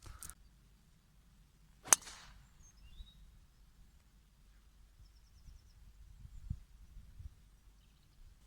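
A golf driver strikes a ball off the tee on a sunny course near a forest, one sharp crisp crack standing out against quiet outdoor ambience, with faint birdsong afterward.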